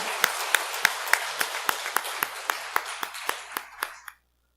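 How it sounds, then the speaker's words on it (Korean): Congregation in a church service clapping together in slow, even unison, about fourteen sharp claps at a steady beat that fade slightly before stopping abruptly into silence. "하나님께 영광의 박수를 보내겠습니다."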